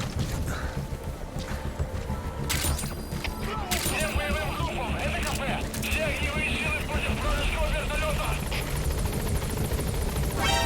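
Support helicopter in the Metal Gear Solid V: The Phantom Pain video game arriving, a loud continuous rotor thump and engine whine under radio voices and hoof-like clopping footsteps.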